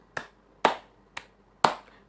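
Four crisp hand claps at an even, brisk pace ring out in a classroom clap-count game, each sharp and close with a short decay and quiet gaps between.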